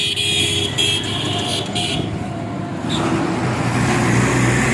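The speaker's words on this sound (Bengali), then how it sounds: "আপনারা দেখছেন যে ইজি বাইকের সারি সারি ইজি বাইক, এই যে সিএনজি সারি সারি ইজি বাইক কিন্তু চলে যাচ্ছে।" A row of easy bikes and CNG auto-rickshaws rolling past in a political rally convoy, with loud continuous motor and road noise and short horn toots nearby.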